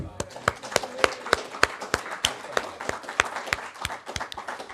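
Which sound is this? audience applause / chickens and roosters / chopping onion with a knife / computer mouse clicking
audience applause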